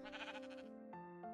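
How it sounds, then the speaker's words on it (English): A sheep in Minecraft bleats in a short, wavering call followed by two brief higher bleats, close and clear with no talk over it. "Inky sheep."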